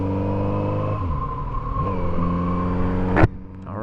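Kawasaki Z900RS motorcycle engine on a test ride, its steady loud drone dropping in pitch at each gear change, then a sharp rising rev near the end before the tone falls back.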